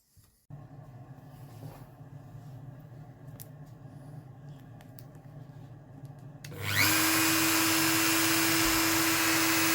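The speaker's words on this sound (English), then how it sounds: "before I use my router." A router spins up loud and sudden, cutting a fingerboard inlay pocket during a Craig Williams acoustic guitar build; a steady whine cuts in above a low, constant workshop drone and holds without a break.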